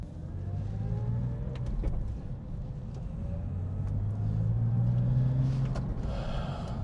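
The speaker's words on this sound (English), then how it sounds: "The engine is coming up to temperature nicely." A rare Porsche engine idles steadily as it warms up after an engine-out service, a continuous close, low rumble with slight rises in pitch, heard alone without talk.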